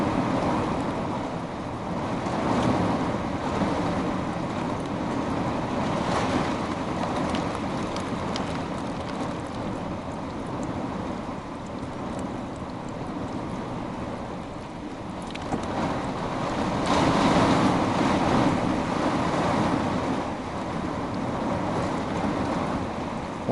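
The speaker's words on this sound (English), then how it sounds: "these gusts are way stronger than 35 miles an hour" Strong wind gusts at Paradise Lake, a continuous roaring buffet against the microphone with water churning beneath, swelling louder midway and easing again, no talk.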